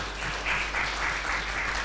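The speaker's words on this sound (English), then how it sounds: "please give her a round of applause" A hospital gathering's audience gives a steady round of applause, dense clapping throughout with a faint low hum beneath.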